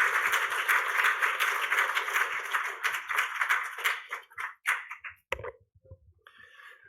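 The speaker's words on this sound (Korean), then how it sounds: "우리 뜨거운 박수로 우리 환영하도록 하겠습니다" A church congregation claps warmly to welcome a missionary, steady applause that thins into scattered claps and fades out after about five seconds.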